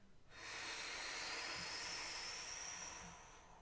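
A person exhales in an exaggerated push during a solar plexus breathing exercise, one long, steady, breathy hiss of air that starts suddenly and fades slightly toward the end, close and quiet, alone.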